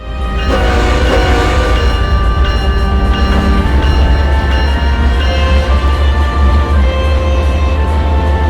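A train rumbles loudly and continuously, with a deep low drone and sustained tonal hums as it pulls away, no voices.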